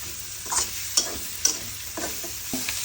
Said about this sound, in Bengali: আমরা দশ মিনিট এটা কষিয়ে নেব